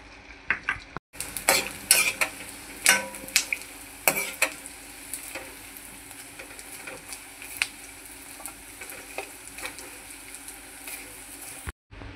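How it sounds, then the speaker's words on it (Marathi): Edible gum (dink) frying in hot ghee for methi ladoo, with a close, continuous crackling sizzle broken by sharp metal clinks and scrapes of a spoon against the pan, no talking. "आता घी तापले तर आपण हे डिंक आहे ना थोडं थोडं फ्राय करून घेऊया।"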